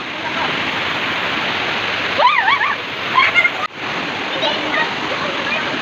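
Steady roar of Taybungan Falls pouring into a pool, a dense continuous rush of water close by, with brief excited voices breaking in over it partway through.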